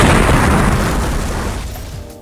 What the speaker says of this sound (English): Did he just blow up?